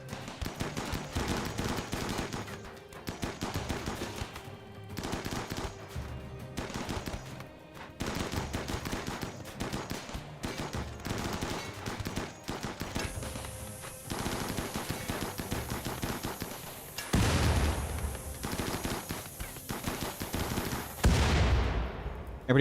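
Loud, rapid bursts of turret gunfire in a video game water map, with sustained machine-gun volleys repeating close and heavy, followed by a rising high whine near the end.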